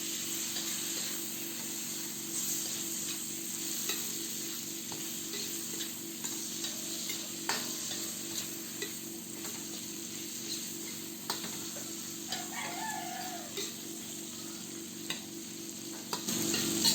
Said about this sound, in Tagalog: ilagay na natin ang hipon. Gisayin lamang natin ito ng 3 minuto.